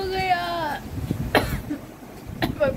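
Harsh coughing set off by the fumes of green chillies fried directly in oil in a home kitchen, a couple of short rough coughs mixed with voices nearby.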